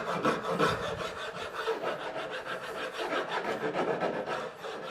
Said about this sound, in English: And then I would hit it with the file, the rougher side of the file.